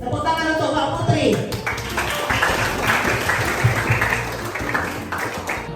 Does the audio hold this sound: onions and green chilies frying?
no